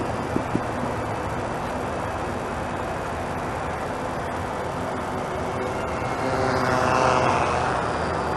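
Small quadcopter drone flying outdoors near a power line, a steady broadband whir of propellers that swells slightly louder toward the end, with no talking.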